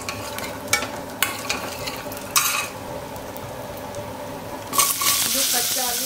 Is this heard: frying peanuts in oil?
yes